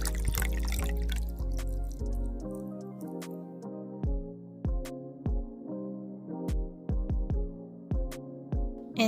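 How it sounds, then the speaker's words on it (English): Water is poured into a container to make a worm castings plant tea: a brief steady pour gives way to a series of distinct close drips and plops, irregularly spaced. "we add the water to fill up the container"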